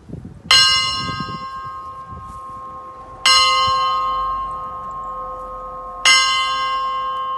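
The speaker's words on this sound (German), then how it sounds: "die Glocke der Erkenntnis" A bell struck three times at even intervals, each strike loud and close with a bright ringing tone that decays slowly until the next one.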